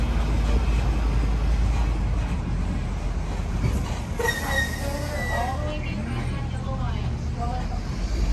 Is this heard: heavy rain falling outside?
no